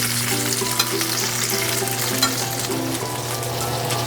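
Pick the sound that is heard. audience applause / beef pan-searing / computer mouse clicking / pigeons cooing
beef pan-searing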